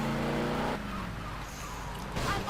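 A Sabre car drives in GTA Vice City, its engine roaring steadily up close, then easing off before a brief surge near the end, with game sounds around it.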